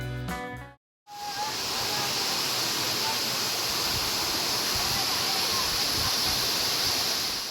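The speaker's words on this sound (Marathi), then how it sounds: "नुकत्याच झालेल्या जोरदार पावसामुळे संगमनेर तालुक्यातील खांजापूर आणि मालदाड शिवारामध्ये असणारा विठ्ठलकडा धबधबा आता प्रवाहित झालाय" Vitthalkada waterfall near Khanjapur in Sangamner taluka, swollen after heavy rain, roars in a dense, continuous wash of falling water, loud and unbroken after a short tonal sound at the very start.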